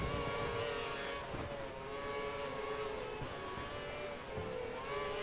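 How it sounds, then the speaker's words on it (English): A race car engine in the F1 2013 video game at Silverstone runs rough and poorly, a steady droning whine with wavering pitch, loud and continuous alongside other cars' engine noise, with no talk. "you can hear his engine sounding poorly"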